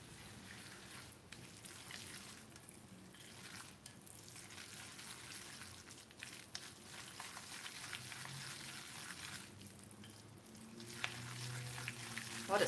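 A teaspoon of vinegar splashed into a hot frying pan gives a quiet, steady hissing sizzle with faint crackles, swelling a little louder toward the end.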